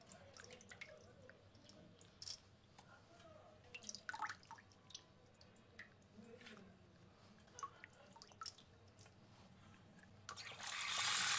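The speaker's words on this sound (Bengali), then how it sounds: "এখন মাছগুলি ধুয়ে ধুয়ে একটু পরিষ্কার করে নিচ্ছি।" Cut fish being rinsed in water by hand: faint, scattered drips and soft splashes over a quiet background, ending in a louder rush of running water.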